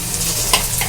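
Onions frying in mustard oil in a pan, a short steady sizzle with one brief louder crackle, close and alone with no voices.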